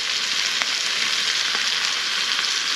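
British quarter pounder burgers sizzling in a pan at a camp cookout at night, a bright steady frying hiss with tiny pops, close and continuous, with no speech.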